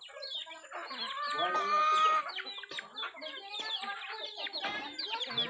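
Several chickens cluck and squawk continuously nearby, overlapping calls with a few louder crowing-like cries, no talk.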